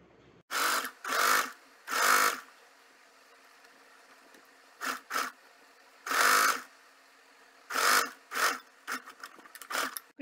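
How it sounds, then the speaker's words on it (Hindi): A home sewing machine stitches a kurta welt pocket along its edge from the wrong side, running in several short, loud whirring bursts separated by quiet pauses, with the final runs choppier and shorter. "रॉन्ग साइड से पॉकेट की स्टिचिंग करेंगे बिल्कुल इस एज पर।"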